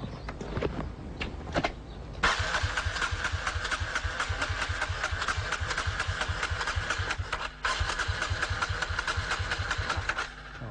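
A water-fueled motorcycle engine cranks a few times, catches and settles into a loud, close, rhythmically thumping idle that holds steady, with one brief stumble.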